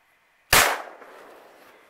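A single sharp crack of a .17 HMR rifle fired at a hare outdoors, loud and sudden, followed by a short fading echo.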